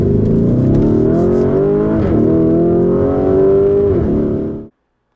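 A 2021 Lamborghini Urus SUV in Corsa mode revs hard up close, its engine note rising and falling in a few surges before cutting off abruptly near the end.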